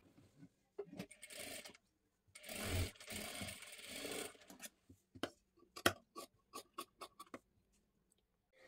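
A sewing machine stitches a size 36 katori blouse in one short, close run, surrounded by scattered clicks and taps of handling.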